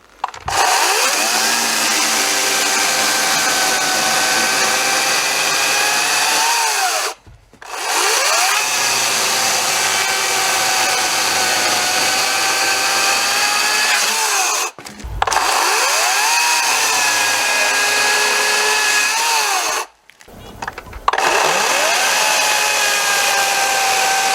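Echo DCS5000 56V battery chainsaw cutting through dry wood in four long, loud, steady whining passes, each broken by a brief pause as the saw is lifted and repositioned, close and with no talking.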